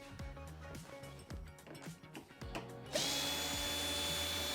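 Cordless power drill unscrewing screws from a Fisher Paykel tumble condenser dryer during a wheel repair: several short whirring bursts with clicks, then a louder sustained high-pitched spin at the end, close by.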